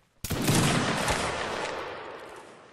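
A single sharp burst of massed musket volley fire in a line battle video game cracks out suddenly, then decays into a long rolling echo that slowly fades.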